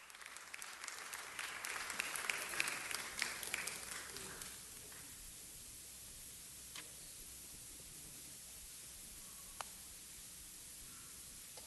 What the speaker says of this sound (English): As we give her a big round of applause